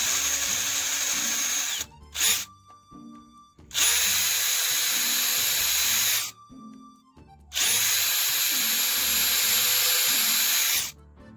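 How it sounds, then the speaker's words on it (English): A power drill whirs in three long, loud bursts, each spinning up and cutting off sharply, with short quiet gaps and faint handling noises between. "we put the drill bit in"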